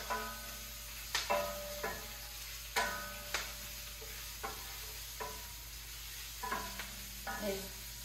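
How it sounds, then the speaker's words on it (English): Collard greens sauté in a pan, a soft low sizzle broken by spaced clacks and scrapes of a utensil turning the leaves, quiet and close. "I'm going to saute them until they start to wilt"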